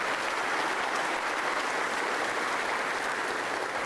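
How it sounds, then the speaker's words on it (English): Sustained, dense audience applause fills a hall right after a new university athletic director is introduced, steady and loud from start to finish with no voices on top. "Let's give a round of applause to Jay Stroman,"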